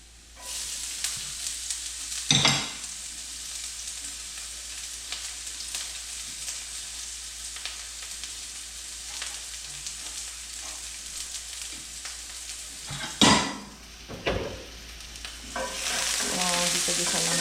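Onion for paella fries in a hot pan with a steady, close sizzle, and a few louder clatters from stirring cut through it; the sizzle swells sharply toward the end as more food goes into the pan.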